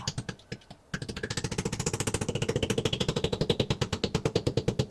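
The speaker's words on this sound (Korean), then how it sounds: "쇠망치로 두드려줬습니다." A steel hammer drives a slightly oversized wall anchor into a bathroom tile wall, rapid even strikes repeating dozens of times in a steady close rhythm after a few scattered taps.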